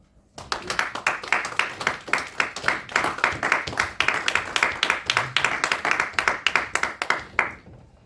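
Church congregation clapping together in a steady rhythmic beat, loud and close, sustained for several seconds with a faint voice underneath.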